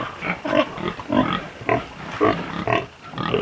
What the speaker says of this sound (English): Down here it's a piggery.